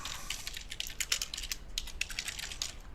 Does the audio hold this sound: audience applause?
no